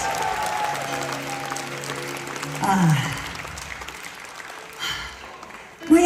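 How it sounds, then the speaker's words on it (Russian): A concert audience at a New Year solo show claps in a dense, steady wash of applause while someone speaks loudly over it, the clapping easing toward the end before a brief swell. "Посильнее, бурные, бурные аплодисменты"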